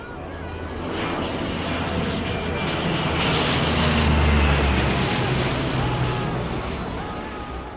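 A search plane flies over mountains, its propeller engine droning steadily. The sound swells to a peak midway and then slowly fades as the aircraft passes.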